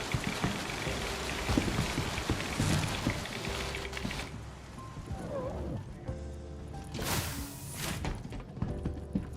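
Steady rain pours and patters in the space game Star Citizen, a dense hiss that thins partway through, with faint tones, thuds and a brief bright rush near the end.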